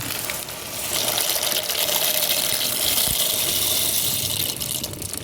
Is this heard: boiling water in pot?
yes